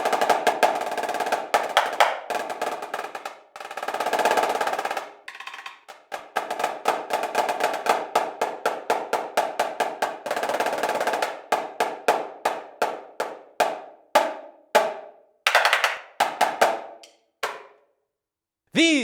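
A snare drum plays alone, mixing crisp single strokes, quick rhythmic patterns and longer buzzing rolls, ending with a final sharp hit.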